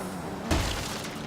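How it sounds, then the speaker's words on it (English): A car in Forza Horizon 3 slams into traffic, giving one sudden crunching impact against steady engine and road noise. "Crashing into cars is not a good sign."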